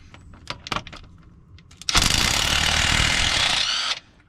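A wrench cranked to 200 newton meters breaks loose an over-torqued stud while a Nissan 300ZX Twin Turbo clutch is being removed: a few sharp metallic clicks, then a loud, sustained grinding rattle that runs for about two seconds and stops abruptly.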